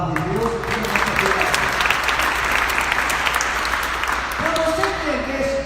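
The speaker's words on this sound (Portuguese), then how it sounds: "Vamos aplaudir a palavra de Deus." A church congregation applauds steadily during a Portuguese-language worship service: continuous, full clapping from many hands, with a preacher's voice heard at the start and again at the end.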